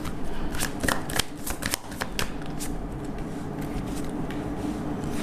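Tarot cards are shuffled up close in quick, crisp riffling bursts, followed by a softer, continuous rustle as the deck is worked.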